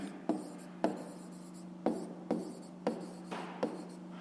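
A pen writes digits on paper in a maths exercise, a series of short scratchy strokes in irregular bursts, close and quiet over a low steady hum.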